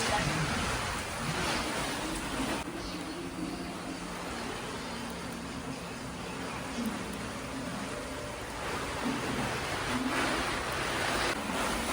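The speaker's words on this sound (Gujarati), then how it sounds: "એક વરસાદની ધબધબાટી બોલે છે કેટલો અવાજ આવે" Heavy monsoon rain pours down during a severe downpour that has flooded a cattle shelter, making a dense, steady roar of water that fills the whole clip without pause.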